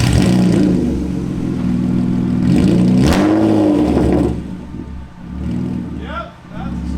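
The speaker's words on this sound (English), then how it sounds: "So the muffler's off. We're gonna give it a start." A BMW E36 with its muffler removed, running a straight-pipe exhaust, is started and revved, a loud, raw engine roar that rises and falls over several seconds before easing off near the end.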